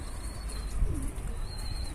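Soft, low pigeon cooing rises and falls gently against a steady background hiss, with a faint chirp somewhere in the distance.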